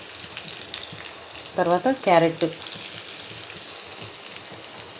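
Onion frying in a pan for egg chapati rolls gives a steady, close sizzle throughout, with a short stretch of speech partway through.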